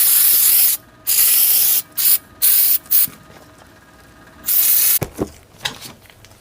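Spray cleaner blasts in short bursts onto a ratchet during cleaning, several loud hissing sprays of varying length with quiet gaps and small handling clicks after.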